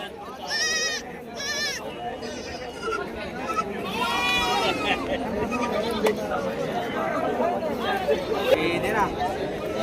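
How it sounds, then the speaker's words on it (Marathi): Young lambs bleat repeatedly at a busy livestock market in Shirur, Pune district, Maharashtra, with several clear, wavering cries close by over a steady background of crowd chatter and people talking. "हे मेंढीचे पिल्ले खूप छान आहेत"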